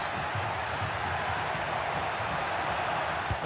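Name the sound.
football crowd encouraging player, FC 25 video game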